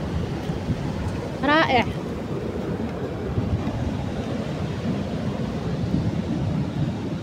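Sea water surges back over the shore in a steady broadband rush, blended with gusty wind noise. A brief voice exclaims near the start.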